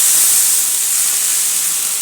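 Water splashed onto a very hot tawa hisses loudly and steadily, a close, dense steam rush that holds for the full two seconds.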